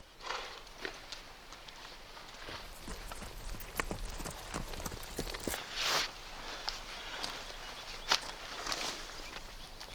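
Hooves of a horse clip-clop steadily along a mountain horse trail on the American prairie, irregular near thuds and clacks repeating over ten seconds with creaks and outdoor ambience, no talking.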